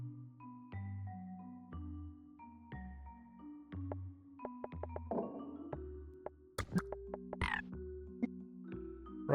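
Frog croaks in the video game Storyteller, a run of repeated low croaking calls over a soft, bright melodic game tune with chiming accents, steady and clear, with no talk.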